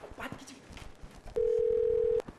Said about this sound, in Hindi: घंटी बज रही है, ढोकला खा के बात कीजिए।